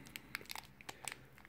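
A small plastic bag holding a flashlight lanyard crinkles in a quick series of faint, sharp rustles and crackles close by.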